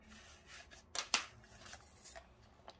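Paper being folded into a square paper airplane: soft rustles and crisp creases, with one or two sharper crinkles near the middle, close and fairly quiet.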